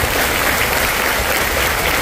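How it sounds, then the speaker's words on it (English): A large crowd applauds at Disney's Hollywood Studios 35th birthday celebration, a dense, loud, continuous wash of clapping that fills the whole clip evenly. "Keep that applause going."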